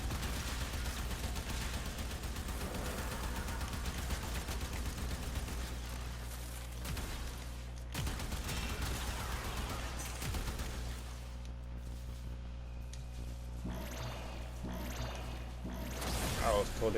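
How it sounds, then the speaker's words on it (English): Video game combat with bursts of rapid gunfire and explosions runs throughout under a dense, noisy mix, and a person talks over the action. "I'm just shooting wildly, thinking that my explosion range just hit somebody extra."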